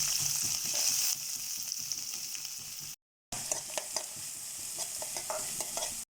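Mustard seeds, urad dal, dried chillies and chopped shallots sizzle loudly in hot oil, a continuous fry hiss with scattered pops and crackles, briefly cut out once, with no talking.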